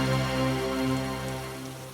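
Heavy rain pours down steadily in a continuous, loud wash, with a sustained musical tone layered over it.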